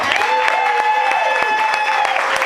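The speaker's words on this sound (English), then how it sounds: "Please, ladies and gentlemen, put your hands together for number 88, Dennis Pitta." Audience applause for football player Dennis Pitta, number 88, on a live show stage: a dense, steady wash of clapping lasting the whole moment, with a faint musical tone underneath and a few sharper claps standing out.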